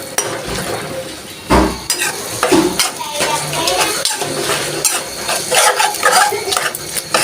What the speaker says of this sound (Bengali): এই যে এতটুকু দিয়ে নাড়তে থাকবো।